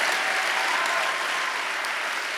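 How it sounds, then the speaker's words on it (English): An audience claps together at an indoor church-style talk, a dense, steady burst of many hands filling the whole stretch at even loudness, no voices over it. "if we're gonna clap, let's just all clap together"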